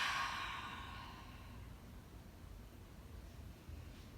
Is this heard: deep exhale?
yes